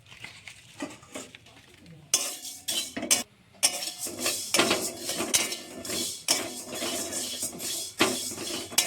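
Whole spices dry-roasting in a pan for a homemade fish masala, stirred with a metal spatula that scrapes and rattles in repeated loud bursts, close up, with the grains crackling softly between strokes.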